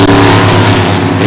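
Drag racing cars, one a dragster, launching side by side down the strip with a loud, sustained, close engine roar filling the whole moment.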